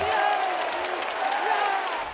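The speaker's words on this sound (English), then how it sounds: "Oh, the crowd is on their feet." Esports match crowd on Anubis map cheering and applauding, a steady roar of applause and voices with a caster talking over it.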